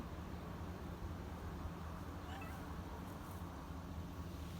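A cat meows over a steady low background hum, the calls soft and somewhat distant rather than loud and close.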